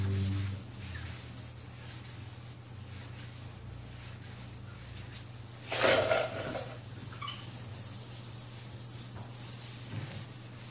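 Golf cart body panels with Rust-Oleum paint are wet sanded by hand, giving a soft, steady rubbing swish with one louder scrub midway over a low background hum.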